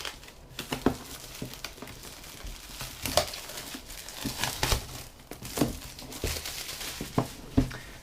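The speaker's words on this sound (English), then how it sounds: "let's get the old cellophane off so it doesn't reflect too much on the camera" Cellophane wrap is pulled and crinkled off a board game box, giving close, irregular crackles and sharp tearing bursts throughout.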